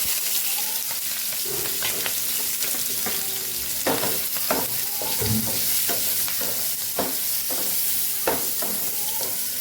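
Chillies sizzle in hot oil with popped mustard seeds, asafoetida and turmeric, a steady loud fry broken by repeated scraping stirs of a spoon.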